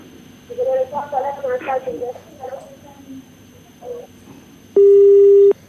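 A steady electronic telephone line tone sounds for nearly a second near the end, as a call-in caller fails to connect to a legal-advice broadcast, following a stretch of talk by a host.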